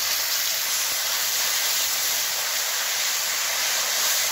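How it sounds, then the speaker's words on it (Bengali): Bay leaf, dried chili and cumin sizzle in hot oil for a Bengali jackfruit curry tempering. A loud, steady, bright frying hiss runs unbroken throughout. "ওর ভিতরে আমি সম্বারের জন্য দিয়ে দেবো তেজপাতা, শুকনো লঙ্কা, দিয়ে দেবো জিরে"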